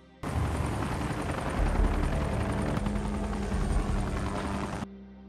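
Two helicopters circling in an action film scene, a loud, steady rotor roar that starts abruptly and holds for several seconds before cutting off, with no voices.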